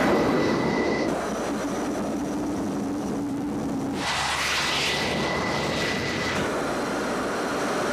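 F-14 Tomcat fighter jet in flight at night off the Southern California coast, a steady loud engine roar and rushing jet noise throughout, shifting in tone partway through.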